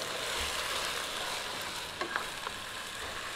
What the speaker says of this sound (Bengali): এই চালটাকে আমরা নাড়াচাড়া করে দিচ্ছি